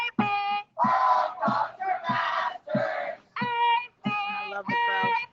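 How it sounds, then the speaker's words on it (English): A crowd at a nightly street march in Seattle chants in unison, loud rhythmic bursts of many voices shouting in short phrases separated by brief pauses. "I love the crowd."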